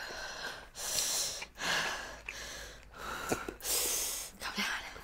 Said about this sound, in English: I'm losing my breath because I'm inhaling and exhaling